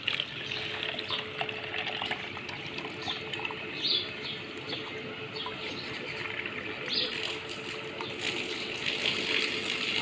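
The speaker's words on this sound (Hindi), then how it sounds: "ये उठाएंगे हम पानी, और पानी डालेंगे" Water is poured from a bowl into a pot of beef biryani, a continuous hissing splash at moderate level with faint bird chirps in the background and no talking.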